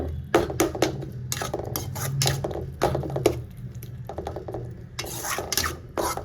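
Quail egg gravy stirred in a pan, with repeated rasping scrapes of a spoon against the pan coming in short bursts between quieter pauses, close and with no talking.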